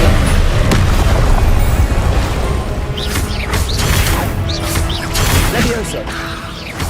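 A Glacius ice spell cast in Hogwarts Legacy, played in 4K on Xbox Series X: a sudden crackling burst and boom hits at about three seconds. Further impacts follow, loud over a constant heavy rumble of game effects.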